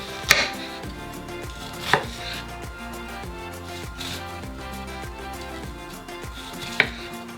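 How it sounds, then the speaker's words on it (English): Kitchen knife chopping onion on a cutting board, a steady rapid series of sharp close thuds with a few louder knocks, alone without talk. "You can chop your onion however you want to chop it."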